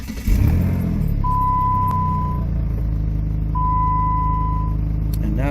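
A 2007 Dodge Nitro engine cranks and catches, then settles into a steady low idle close by, with two long electronic dashboard chimes sounding over the running engine.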